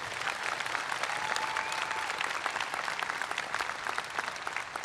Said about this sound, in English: can we get one more round of applause for your summa cum laude speakers,